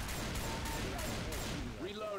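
Rapid gunfire from the Left 4 Dead 2 shooter game: a quick string of sharp shots in a steady rhythm, moderately loud, with game voices faintly underneath.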